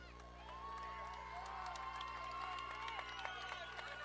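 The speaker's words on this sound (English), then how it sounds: "Roseville fans cheering here for the Tigers" Roseville football fans cheer for the Tigers at a high school game against Del Oro, a steady crowd roar with scattered whoops and claps, along with whistle-like tones and chatter, heard from within the stands.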